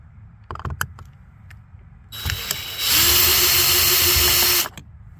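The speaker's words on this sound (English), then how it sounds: "we're gonna take our drill, used and abused of course" A used cordless power drill spins out screws from a rear passenger door of a 2009 Cadillac CTS-V, starting with a few short clicks and ratchet taps before a loud, sustained whine runs for about two seconds and then stops abruptly.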